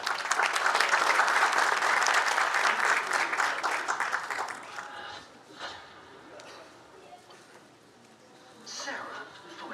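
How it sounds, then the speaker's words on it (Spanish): Conference audience applauds strongly for about four seconds, then the clapping thins out and fades to scattered claps and quiet room noise, with a short burst near the end. "Un fuerte aplauso, por favor, para Oscar."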